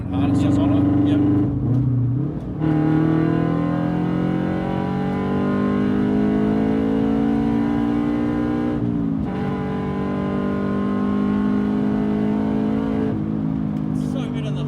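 Toyota GT86 engine revving hard while driving, a loud steady harmonic drone climbing in pitch through the rev range with brief dips at gear changes, heard from inside the car with no talk.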